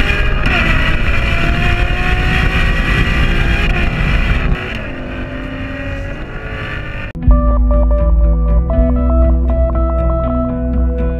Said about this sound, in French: Ce moteur voilà, qui prend 8250 tours, c'est juste magique, on l'écoute.